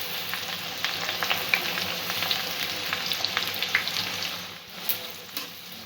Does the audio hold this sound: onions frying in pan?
yes